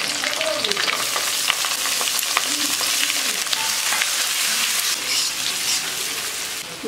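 Chopped garlic and ginger fry and get stirred in a pan for chicken tadka, a loud steady sizzle with scraping stirs throughout.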